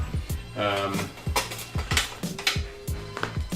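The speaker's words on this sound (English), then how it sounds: "I basically use a wooden spoon and just go to town on the fish" Wooden spoon working through cubed ahi poke fish in a bowl, a series of repeated knocking, scraping strokes in an irregular rhythm, close and fairly loud, with brief talk in between.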